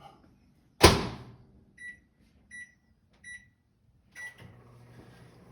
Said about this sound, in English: I'm going to put this in the microwave also for a little bit because I want that water to be kind of warm